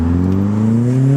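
A turbocharged VW Golf 1.8T with a KO4 turbo at about 24 psi accelerates hard, its engine note climbing steadily in pitch. The sound is loud and close, with no voices.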